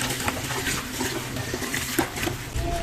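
Rice grains swished and rubbed in a bowl of water while being washed for a Batangas goto, a steady close sloshing, splashing wash with small clicks and drips throughout.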